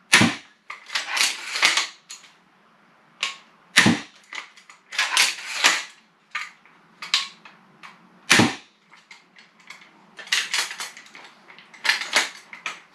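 EK Vlad crossbow being shot outdoors by a German archery reviewer, with several sharp, loud snapping releases at irregular intervals amid clattering handling and mechanical clicks between shots.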